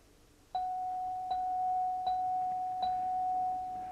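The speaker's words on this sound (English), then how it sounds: "Would have liked to have heard more bells than that." Four bright game show bells ding one after another at even intervals on a Wheel of Fortune set as letters light up on the board, each tone ringing on clearly with no talk.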